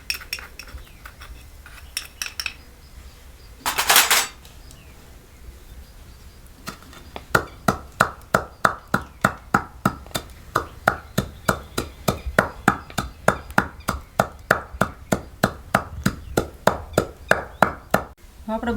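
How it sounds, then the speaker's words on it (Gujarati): Steady rhythmic pounding of sugar in a mortar for rice flake chevdo, dozens of sharp close thuds at a quick even pace after a few scattered kitchen clinks, with faint speech in the background. "હવે આપણે થોડીક મોરસ નાખવાની છે તો એને ખાંડી નાખી"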